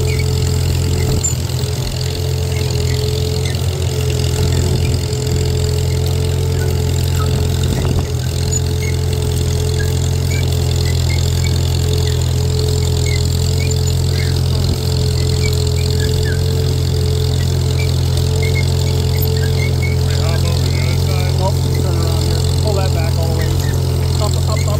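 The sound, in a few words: old tractor engine running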